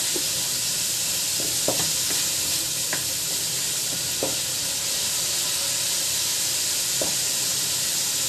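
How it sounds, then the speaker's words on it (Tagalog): Pork for dinuguan sizzles steadily in a pan as it browns and releases its fat, with occasional scrapes and stirs over a constant frying hiss, close and unbroken without talk. "ililib muna natin to hanggang mag-brown yung ating laman"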